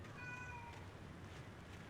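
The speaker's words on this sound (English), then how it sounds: "I keep hearing that cat." A cat meows in the Alan Wake video game, one drawn-out tonal meow early on, faint and distant over a low ambient game rumble.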